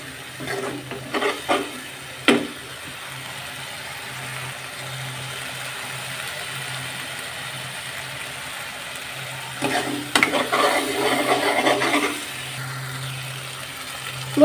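Egg curry masala sautéing in a pan, a steady low sizzle throughout with bursts of scraping and stirring near the start and again toward the end, no voices.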